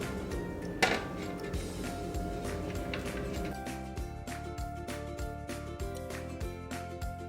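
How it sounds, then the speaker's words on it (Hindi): Paneer rubbed over a hand grater onto a plate, giving a steady run of short, regular scraping strokes under continuous background music, with one sharper knock near the start. "अब हम इस पनीर को कद्दूकस कर लेंगे।"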